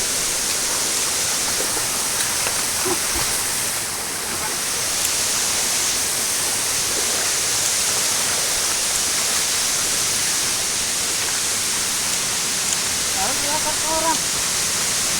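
Pawarwad waterfall at Kanakumbi roars as a constant, dense rush of falling water filling the scene, with faint voices surfacing briefly near the end.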